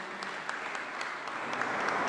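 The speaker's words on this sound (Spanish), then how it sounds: "Fuerte aplauso, por favor, para esta presentación audiovisual" Steady applause from an audience at a Guatemalan government presentation on losses and damage from the tropical depression Eta, a dense, even clatter of clapping that fills the whole moment with no talk over it.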